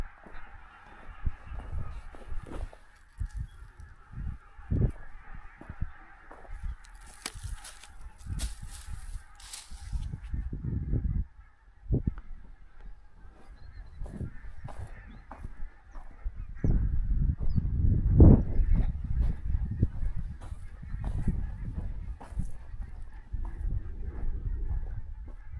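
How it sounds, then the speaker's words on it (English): Startled geese honking loudly and repeatedly in a field, the harsh calls growing denser and more frantic toward the end, heard over a low steady hum of background noise. "the sound the geese have"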